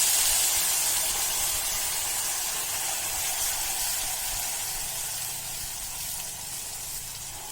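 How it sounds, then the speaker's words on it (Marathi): Ground masala sautéing in hot oil with asafoetida for shev bhaji, a steady loud sizzle and hiss that continues without a break and slowly softens, with no talking. "मसाला छान तेल सुटेपर्यंत परतून घेऊया"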